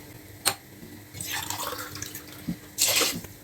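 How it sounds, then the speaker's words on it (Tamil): Water poured from a glass onto measured rice for a rice-cooker vegetable biryani, heard as two close splashing pours separated by a soft trickle, with a brief tap in between. "ஒரு கிளாஸுக்கு 2 கிளாஸ் தண்ணி ஊற்றணும்."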